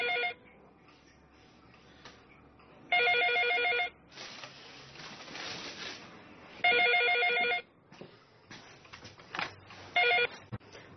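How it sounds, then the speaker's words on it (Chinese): A telephone bell rings in four loud bursts spaced a few seconds apart, with quieter room noise and movement in the gaps, during a scene from a Chinese legal drama. "大姚，接下电话"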